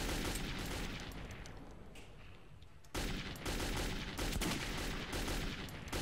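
Rapid gunfire from a weapon in Metro 2033, in the Ghost Train level: continuous loud bursts of shots, with a brief lull before a renewed heavy barrage that carries on to the end.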